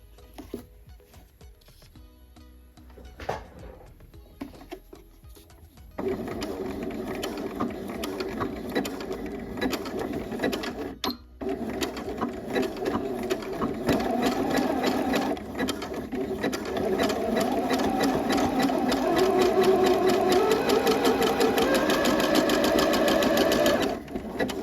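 A sewing machine runs a zigzag stitch along the seam of fall joggers, starting after a few quiet seconds with brief handling, then a steady rapid mechanical chatter that pauses once and resumes.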